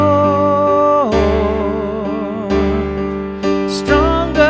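Piano in a worship-song style, the right hand playing three-note chords with octave Gs while the left hand plays bass notes; sustained chords change several times with ringing low notes, clear and close, no voices.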